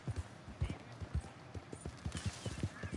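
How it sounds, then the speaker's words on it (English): Horse hooves clip-clop in a steady, brisk rhythm as a rider moves through a video game scene, the hoofbeats close and clear with faint background voices. "riding my big ass horse through it"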